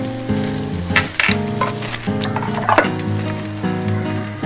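Egg fried rice is tossed and stirred in a hot pan, with a steady bright sizzle and scraping strokes under a prominent melodic music bed.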